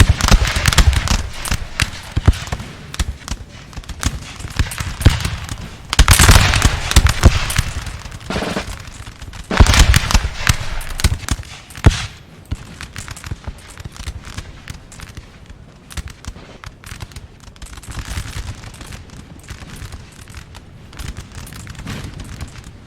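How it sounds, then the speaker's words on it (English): Musket infantry volleys crackle in a Napoleonic-era battle in the video game Napoleon Total War, with dense bursts of rapid gunfire and louder volley clusters rolling on and off over a distant battlefield din. "France and HRE just trading volleys over here at the moment"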